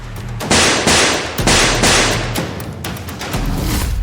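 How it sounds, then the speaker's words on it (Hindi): Several loud, sharp gunshot-like bangs ring out in quick succession, each trailing into a dense roar, with no voices. "ताबड़तोड़ गोलियां चलाई।"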